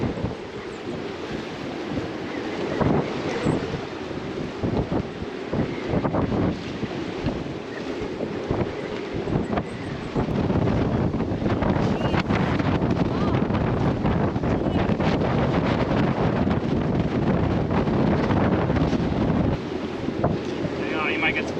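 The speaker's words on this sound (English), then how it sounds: "we're all kind of a little worried about our anchor slipping in this heavy of wind" Heavy wind storm roaring over a sailboat at anchor, with constant loud gusting buffeting the microphone and water sloshing against the hull; a faint voice may be buried in the noise.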